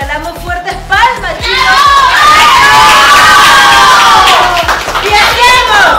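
Children at an 11-year-old girl's birthday party break into loud cheering and shouting with clapping, the close, excited crowd of young voices swelling after a brief adult call and staying strong throughout.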